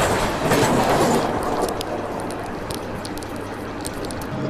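An express train on the Mumbai to Jabalpur line thunders past on the approach to Kasara, with a loud, steady rush of wheels and rhythmic clickety-clack near by, alone without talk.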